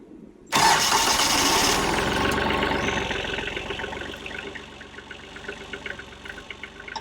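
A Kioti tractor engine cranks and catches abruptly in cold winter weather, bursting into a loud roar that eases into a steady knocking diesel idle, close by and alone.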